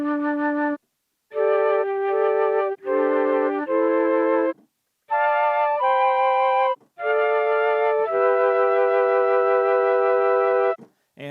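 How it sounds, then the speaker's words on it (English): Mellotron Mark II flute plays a slow melody of sustained, breathy notes and chords, with brief pauses between phrases and no other sound. "the other sound is the famous Mark II flute"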